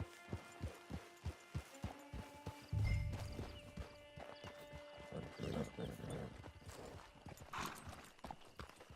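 In Red Dead Redemption 2 Online, steady rhythmic clip-clop of horse hooves at a walking pace, joined by a horse's snort and whinny, then more hoofbeats over low ambient noise.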